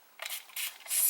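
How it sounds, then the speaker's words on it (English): Repeated short hissy spritzes from a spray bottle misting water onto partly dry hair, three close bursts with the last one longest and brightest, no talking. "I'll take my spray bottle and just kind of"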